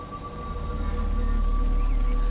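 Light rain falls in October, a soft steady patter that holds at an even level throughout.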